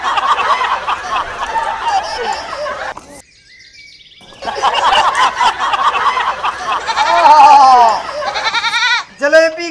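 A small goat bleats repeatedly in a lively comedic farm scene, wavering cries close by that mix with people talking over a busy background, with a short silent break partway through.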